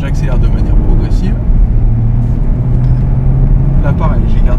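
An Audi R8 on a race circuit accelerates steadily, its engine a continuous, loud drone with a sustained tone that holds throughout, while someone speaks over it.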